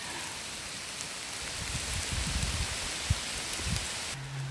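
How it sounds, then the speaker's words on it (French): Heavy rain pours steadily on a solo women's hike, mixed with scattered hailstones striking the ground in brief irregular knocks, a dense even downpour close by that briefly shifts in tone near the end. "Il pleut, il pleut, il pleut et il pleut."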